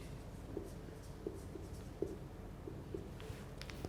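Writing during a mathematics lecture on decimals comes through as faint, sparse taps and short strokes of a pen or marker, spaced irregularly over a quiet room hum.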